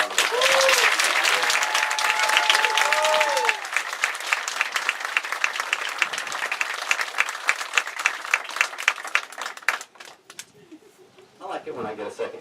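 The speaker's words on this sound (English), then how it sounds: "please give them a big round of applause" Applause from a crowd at a Tyson Foods groundbreaking ceremony in Humboldt, Tennessee: dense, sustained clapping that carries on for about ten seconds, then thins out and fades, with a few birds cooing faintly in the background.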